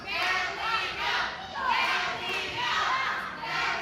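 Hometown wrestling crowd at an ACW Proving Ground indie show cheering for the wrestler called the queen pin, a steady wall of shouts and cheers swelling in waves throughout.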